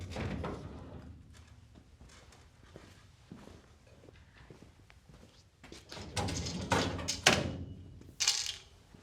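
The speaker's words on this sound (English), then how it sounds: "Remove the top drawer and its carriage from your cabinet." A metal top drawer and its carriage are pulled from a Tekton tool cabinet, giving scraping slides, clunks and knocks that grow louder toward the end.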